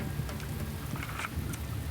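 Heavy rain pours onto a makeshift shelter roofed with an animal hide in the wilderness, a dense, continuous hiss of drops drumming steadily and close, with no voices.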